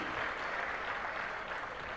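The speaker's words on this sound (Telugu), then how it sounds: "గట్టిగా చప్పట్లు కొట్టి అభినందించండి." Audience clapping at a meeting, a steady dense patter of many hands lasting throughout, moderately loud and without talk.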